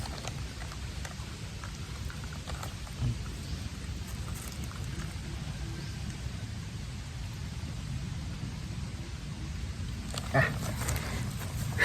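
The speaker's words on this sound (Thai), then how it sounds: "ฝนตกนะครับผม" Steady rain falls outdoors at a rubber plantation, a dense even hiss of drops with low rumbling and a few scattered splashes throughout.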